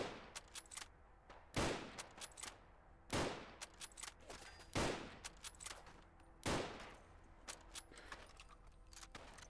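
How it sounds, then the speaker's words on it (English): Gunfire between hostile characters in a video game: scattered sharp shots, some in quick clusters, with a few heavier booming reports standing out at intervals, mid-distance with no talk over it. "I'll let them shoot each other."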